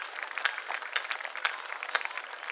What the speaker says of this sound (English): really deserves a huge round of applause for the school